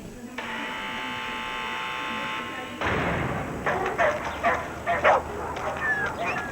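A hunting dog gives a few quick barks and yips after a long electric buzz, with people talking over the animal at a moderate distance.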